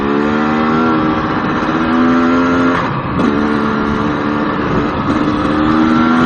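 A GasGas EC300 two-stroke dirt bike is ridden in the evening near Yerington, its engine a loud buzzing drone that rises and dips with throttle changes, close and continuous with no talk.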